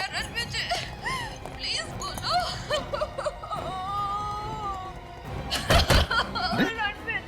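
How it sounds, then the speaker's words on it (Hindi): A person cries and whimpers with wavering, sobbing voice sounds, broken by a couple of sharp knocks near the end. "हाँ सर, ये तो रोने की आवाज है।"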